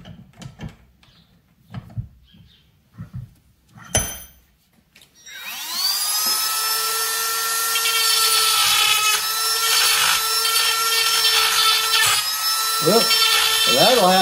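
A rotary tool with an eighth-inch bit grinds the port of an Echo 7310 chainsaw cylinder, a steady high-pitched whine that runs for about eight seconds after a few quiet knocks and voice-like bursts.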